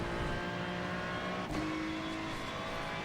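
A race car in an IMSA racing sim at Watkins Glen runs hard under full power, its engine droning loudly and steadily with a brief shift-like dip midway.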